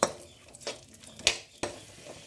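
A spatula stirs raisins and cashews frying in ghee in a metal pan for rava laddu, giving sharp, close clinks every half second or so over a faint sizzle.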